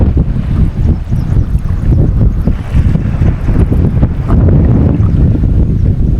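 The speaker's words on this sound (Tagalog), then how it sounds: "lakas ng hangin" Strong, constant wind roars and buffets the microphone while fishing, a dense low rumble with no voices, likely out on open water.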